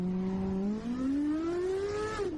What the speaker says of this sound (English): That engine note is a bit loud.